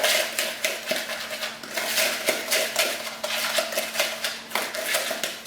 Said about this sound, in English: Mix in the sugars and the melted butter.